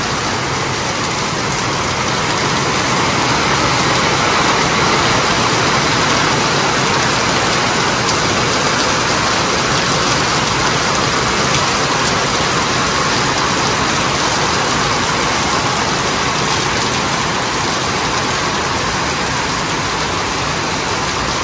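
Heavy rain pours onto a house roof in a dense, unbroken roar that stays loud and even throughout, with no voices.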